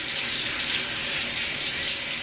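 Morning shower water running, a steady close hiss of spray with no pauses and no voices.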